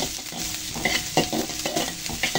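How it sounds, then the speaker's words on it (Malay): Ingredients for fried rice with dried chillies are stir-fried in a pan, with close, continuous sizzling and scraping stirs coming in uneven bursts and no voices. "Kita tumis"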